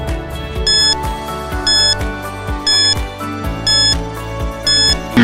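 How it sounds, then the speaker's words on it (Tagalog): A quiz countdown timer sound effect plays as a looping electronic tune, with bright beeps repeating about once a second over a steady pulsing pattern. "Timer starts now."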